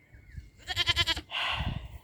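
A horned goat stuck with its head through a fence bleats loudly and close: one wavering, quavering cry, then a second, rougher bleat straight after. Faint low rumbling sits underneath.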